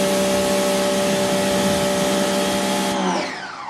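Water spray rinses car tires in a loud, steady, close hiss that runs without a break and then cuts off near the end.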